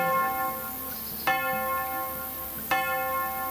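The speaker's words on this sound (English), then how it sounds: "The cathedral's steps were covered in flowers, and its bell tolled slowly." Church bell of a cathedral tolling slowly for a funeral, with two distinct strikes spaced well apart, each leaving a long ringing hum that fills the quiet between them.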